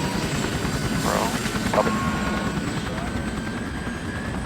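Steady, loud rotor and engine roar of a rescue helicopter taking off close by, a constant churning drone with faint voices briefly underneath.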